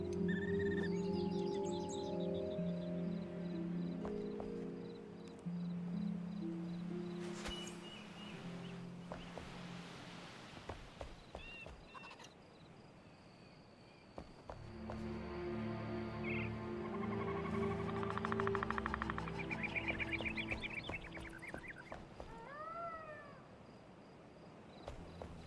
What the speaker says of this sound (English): These are all bird noises, though.